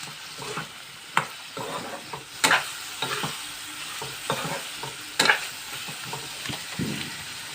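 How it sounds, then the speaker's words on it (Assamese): Broiler chicken frying in spiced oil gives off a continuous crackling sizzle, punctuated by sharp stirring knocks and scrapes at uneven intervals. "এতিয়া মই ইয়াত মাংসখিনি দি দিম।"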